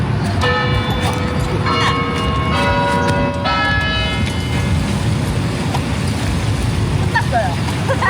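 A Singapore clock tower bell rings several clear tones over constant street and traffic noise, with people talking in the background.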